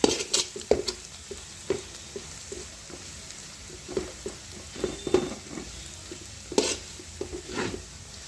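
Garlic frying in oil in a pan, an intermittent close sizzle punctuated by stirring scrapes and occasional clinks of utensil against metal.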